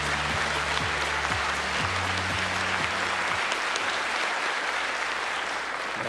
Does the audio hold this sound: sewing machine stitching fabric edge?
no